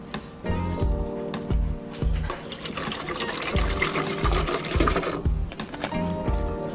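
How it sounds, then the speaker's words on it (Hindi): Water poured into a jug as the first step of a tamarind sharbat, a steady liquid pour with a bubbling, filling texture running for several seconds, close and fairly loud with no talking. "सबसे पहले हम जग में थोड़ा सा पानी ऐड करेंगे"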